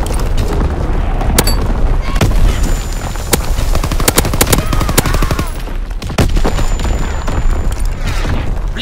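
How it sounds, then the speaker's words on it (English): Artillery battery opening fire in a video game, a steady dense barrage of sharp booming shots and rapid gunfire bursts filling the whole stretch, loud and close with no pauses. "Firing primary battery."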